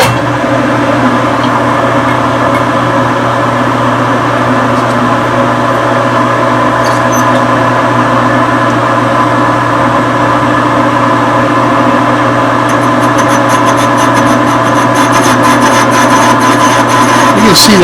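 Metal snow plow shoe for a Fisher plow being cut, a steady loud grinding, rasping cut running continuously with no pauses, heavy sawing texture throughout.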